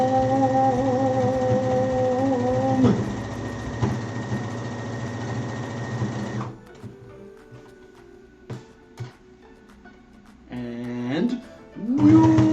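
A sewing machine motor hums with a steady tonal whir while stitching fabric, then stops and restarts in short bursts near the end, with some voice sounds mixed in.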